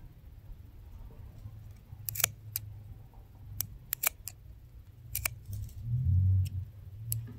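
Scissors snip through the end of a double welt upholstery trim, giving several sharp separate clicks spread irregularly over a low steady background hum.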